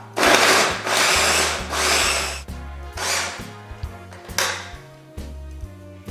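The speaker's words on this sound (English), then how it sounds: "just place the carrots and the onions into the food processor" A food processor chops carrots and onions in a series of short, loud whirring pulses with brief pauses between them, the blade rattling against the vegetables; no voices.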